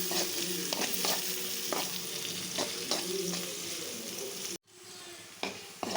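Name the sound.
onion, tomato and green chilli being sautéed in a pan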